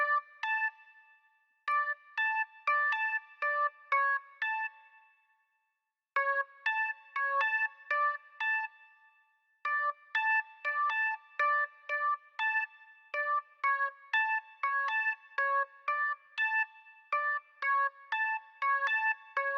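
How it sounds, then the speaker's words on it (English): Bright, clean organ chords play in short staccato stabs with brief pauses, a jazzy rhythmic pattern heard alone and fairly quiet. "So this will be the jazz organ, so let's see what this is doing."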